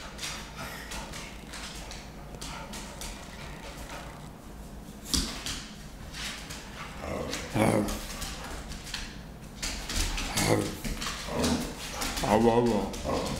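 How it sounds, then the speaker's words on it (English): A pet dog whimpers and gives short barks in a home, several brief bursts rising toward the end, heard close and mixed with people talking. "Silly dog."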